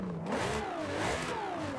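A 2018 Italdesign Zerouno with a racing V12 in Forza Horizon 5 revs hard, its engine note climbing and dipping in quick sweeps, loud and close with no other sounds.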